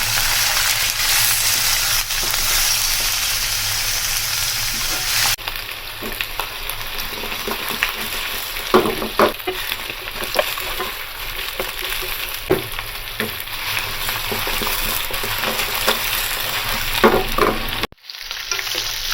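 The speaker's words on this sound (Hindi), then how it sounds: "गोश्त की भुनाई करेंगे।" Medium-sized pieces of bone-in beef sizzle and fry steadily in a pan for a namkeen gosht karahi, with a loud continuous crackle and scattered stirring scrapes throughout.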